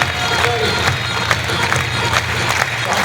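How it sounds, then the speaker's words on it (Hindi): An audience gives hearty applause for the women standing up at a gathering, a steady wash of many hands clapping with some cheering and crowd noise, fairly loud and continuous. "एक बार एक लिए जोरदार ताली बजाओ।"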